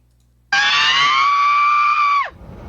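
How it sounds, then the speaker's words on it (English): A woman's scream played from a recording, one long, loud, piercing held cry lasting nearly two seconds that drops off sharply at the end, with quiet before and after. "this is the scream"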